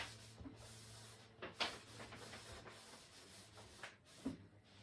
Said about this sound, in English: Okay, I'm going to continue rubbing on some beeswax.